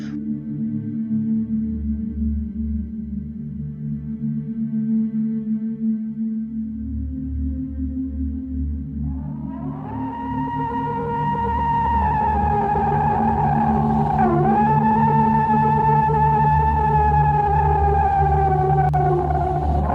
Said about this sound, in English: The sound you hear is what some experts claim to be a Bigfoot scream.